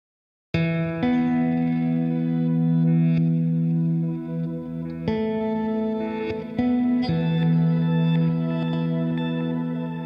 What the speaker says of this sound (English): I'm going to add in this party verb as well, which is a nice shimmery reverb at the end of the line